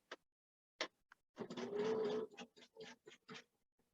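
A sewing machine joins 2.5-inch quilt binding strips, stitching faintly in a few short bursts and one longer steady run.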